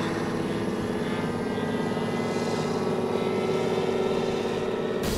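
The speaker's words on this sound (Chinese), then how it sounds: "遥控飞机速度很快，可以追着鸟群朝在跑道上空的鸟飞去" A remote-controlled model airplane flies over an air force runway to chase birds away, its small engine giving a steady, buzzing drone with a constant pitch, moderately loud throughout.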